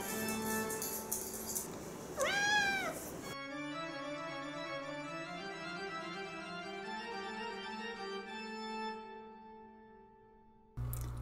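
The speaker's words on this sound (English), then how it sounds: "She's our kitten." A kitten gives a short rising-falling meow partway through, close but fairly soft, and then a long sustained musical tone takes over.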